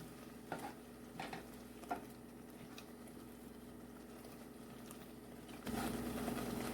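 Ripe papaya simmering in a pan over low heat, a soft steady sizzle and bubbling with a few brief stirring clinks, growing slightly louder near the end.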